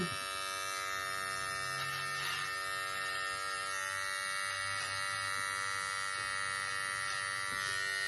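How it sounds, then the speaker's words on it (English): An Andis Slimline Pro trimmer buzzes steadily and close up while lining a beard, a continuous electric whine with slight shifts in pitch as it moves along the skin, with no talking. "I'm going to grab my Andis Slimline Pro. And if you want, you could just create a bottom line."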